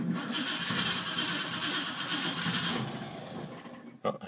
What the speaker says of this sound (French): Petit coup d'accélérateur